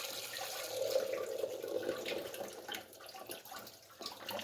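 Milk is poured into a cooking pot (handi) for a creamy white chicken karahi, giving a steady, soft liquid pour and splash that runs for several seconds at moderate volume.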